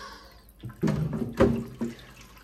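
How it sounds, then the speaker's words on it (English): Water is poured into the reservoir of a GE Profile Opal 2.0 nugget ice maker as it is filled for bleach cleaning, giving close, irregular splashing gurgles in short bursts without speech. "Then we're going to fill this up with water"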